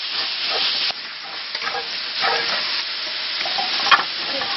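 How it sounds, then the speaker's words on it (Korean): Beef stir-fried in a heated iron cauldron for yukgaejang, with a continuous close sizzle broken by repeated scraping strokes of a spatula and one sharp clank near the end, with no voices. "뜨겁게 달구어진 가마솥에 소고기를 볶습니다"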